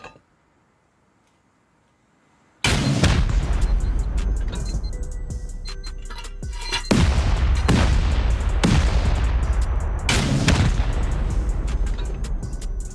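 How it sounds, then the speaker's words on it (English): Rockets blast during a base raid in the Rust video game. After a brief quiet stretch, a heavy explosion hits, and several more loud booms follow amid rumbling, crackling debris and scattered gunfire. "Let's send rockets."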